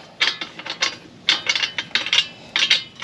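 Wheel ring bolts on a 2022 Polaris Slingshot being tightened by hand, heard as close, quick bursts of metallic rattling and ratchet-like clicking in short groups, with no talking.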